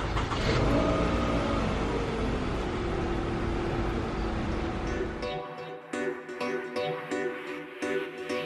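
A Toyota Vellfire engine cranks and catches, then runs with a loud, steady roar for several seconds before dropping to a quieter idle with rattling, intermittent mechanical noise.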